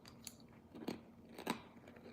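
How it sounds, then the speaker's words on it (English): A crunchy fortune cookie is bitten and chewed near the microphone, with a few crisp, faint crunches spaced apart over quiet background. "I love to eat the fortune cookies."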